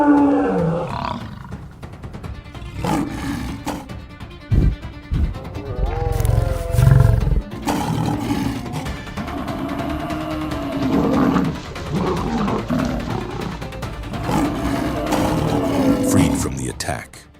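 A lion roars and grunts while a buffalo fights it off on the African savanna. Deep, loud, repeated roars rise and fall over a rumbling struggle, with narration over much of it.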